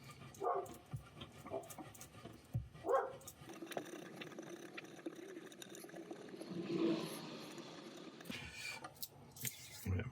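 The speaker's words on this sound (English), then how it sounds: "Oh, dog's at it again." A dog barks in a home workshop during a Milliput inlay craft session, a few sharp barks spread across the span among handling clatter and a low hum.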